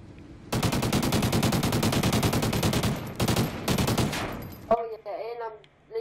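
Rapid automatic gunfire in the Call of Duty video game, long sustained bursts of loud shots with a brief pause between them, followed by a short trailing tail of game sounds.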